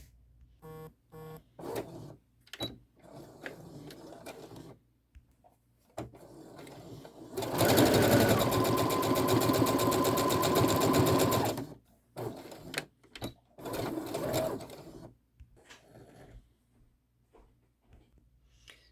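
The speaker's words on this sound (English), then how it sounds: "I'm going to sew at the tops about 5/8 inch in on both of those sides" A sewing machine stitches a seam about 5/8 inch in along the top of a small Christmas stocking, a loud continuous whirring run in the middle framed by shorter stop-start stitching and fabric handling.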